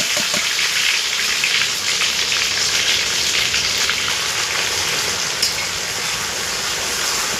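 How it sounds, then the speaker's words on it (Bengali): Onion that was rinsed of its water frying in hot oil with dried red chilli and whole cumin, for a chicken curry: a loud, steady, dense sizzle that stays unbroken throughout with no talking. "পেঁয়াজটা ভাজতে এখন টাইম লাগবে অনেকটা।"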